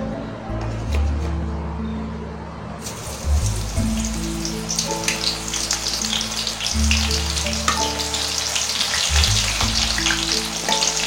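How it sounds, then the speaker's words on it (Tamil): Marinated soya chunks, also called meal maker, frying in hot oil with a loud, steady crackling sizzle close up, and low clunks of a utensil against the pan now and then. "இப்போ இதை எண்ணெயில் போட்டு பொரிச்சு எடுத்துடலாம்"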